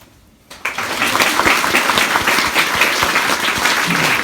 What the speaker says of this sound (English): I'd like to invite the 3rd round of applause for Matt.